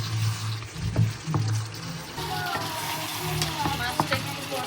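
Hilsa fish heads with spices frying in a pan for a greens dish, a steady close sizzle with a few stirring scrapes and clinks, a hum of background noise beneath.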